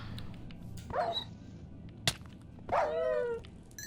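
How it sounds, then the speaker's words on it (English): A dog in Minecraft barks twice, short pitched yips about two seconds apart with a sharp click between them, set against quiet game ambience. "Here's another dog."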